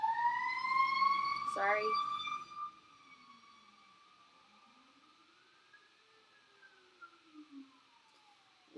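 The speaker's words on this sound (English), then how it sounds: "I swear the sirens will abate." Emergency vehicle siren wailing outdoors, loud at first with rising and falling tones, then fading to a faint distant wail; a voice briefly speaks over it.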